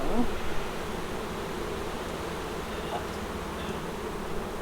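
Honeybees swarm around backyard hives during an inspection in North Port, Florida, a steady, dense buzzing drone that stays close and even throughout with no talking.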